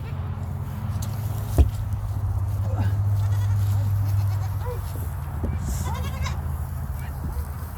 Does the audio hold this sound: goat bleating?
yes